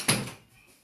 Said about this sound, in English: So close the door, please.